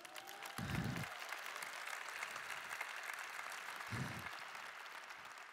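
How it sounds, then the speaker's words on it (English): Faint, distant applause from a conference keynote audience in Boston rolls on steadily, with a couple of brief low thumps breaking through the soft, continuous clapping. "Can we clap it up for my homies?"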